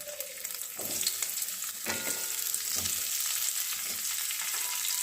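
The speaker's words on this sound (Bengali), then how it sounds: "ফুলকপিগুলোকে ভেজে দিচ্ছি" Cauliflower florets sizzle and crackle steadily as they fry in oil in a pan at medium heat, with occasional scrapes of stirring cutting through the hiss.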